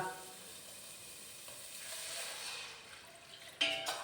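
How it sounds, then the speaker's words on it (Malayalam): A faint, steady sizzle from a hot pan of curry, swelling gently midway, then a sudden brighter splash and hiss near the end as boiled tamarind water is poured in. "നമുക്കിപ്പോൾ ഇത്തിരി പുളി വെള്ളം ഒഴിക്കാം കേട്ടോ"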